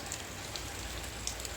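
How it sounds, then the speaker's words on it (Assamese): Steady rain falls at home in the early evening, an even, continuous hiss with scattered louder drops striking nearby surfaces, no talking present. "এয়া বৰষুণ দিলে"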